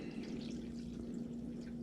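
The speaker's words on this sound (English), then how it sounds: "you take your vinegar and you pour 2 cups in this" A faint, steady stream of vinegar pours into a measuring cup, a soft continuous trickle with no talking.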